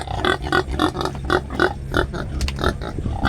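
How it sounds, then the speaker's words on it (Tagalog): Pigs and piglets on a farm, with repeated grunting and oinking close by, several short grunts per second in an uneven rhythm over a steady low background din and no talk. "Nanganak siya ng 4 na biik."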